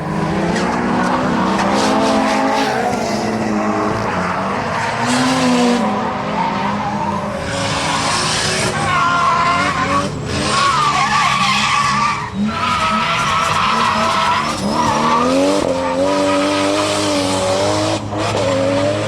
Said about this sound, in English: The next day we saw some D1 cars practicing for the Ebisu event.